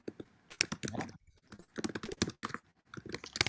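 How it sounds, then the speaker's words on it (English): Rapid typing on a computer keyboard, with clusters of crisp, close key clicks in an irregular rhythm and brief pauses between bursts, heard alone. "I'm typing real quick."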